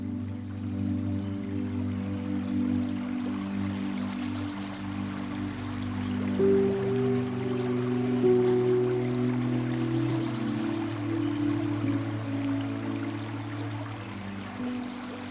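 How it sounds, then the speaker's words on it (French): A small stream runs beneath thick ice in a winter wood, leaving a narrow open channel; a steady, soft trickle and low flowing murmur continues throughout, fairly quiet and alone. "J'observe maintenant un ruisseau scintiller. Malgré l'épaisse couche de glace, un filet d'eau reste découvert au milieu."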